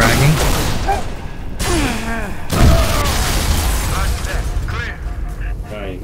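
A grenade goes off in the shooter game Halo: Reach, with loud booming blasts and cracking gunfire in dense battle noise, and a player talks over it.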